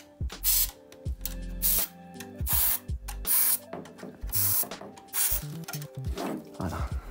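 Cleaning liquid is sprayed into the rear intake vents of a PS5 console in a series of short, sharp, hissing bursts, close up, with small clicks and handling noises between them.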